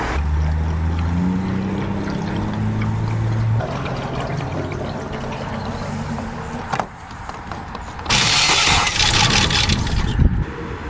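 A Land Rover running on old, stale fuel cranks and nearly catches: a loud, steady droning whine with wavering tones, then a harsh rushing burst before it drops back.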